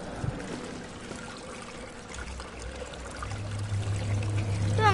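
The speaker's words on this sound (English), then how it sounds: "I'm gonna have a shower." Water pouring and splashing steadily from a shower in the horror game Amnesia, a continuous broadband rush that swells slightly louder toward the end, with no talking over it.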